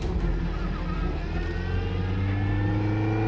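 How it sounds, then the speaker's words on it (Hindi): A car drives off fast, its engine revving in a steady, loud, close drone that climbs in pitch as it accelerates away. "सिकंदर उसकी कार में घुसा और दौड़ गया"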